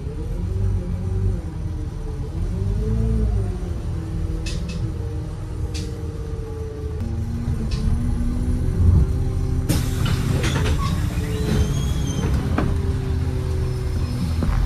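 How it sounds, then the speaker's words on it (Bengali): Inside the slow-moving 88A public bus in Baku, Azerbaijan, a constant low engine rumble fills the cabin, with scattered rattles and a brighter burst of clatter toward the end. "বাস এখানে খুব আস্তে আস্তে চলে"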